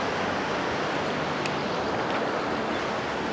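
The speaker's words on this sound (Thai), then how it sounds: "ตรงนี้จะเป็นจุดร้อยต่อที่น้ำไหลแรงนะฮะจากประตูน้ำครับ" Water pours strongly through a roadside sluice gate in Ang Thong, Thailand, making a loud, steady, broadband rushing roar with no break.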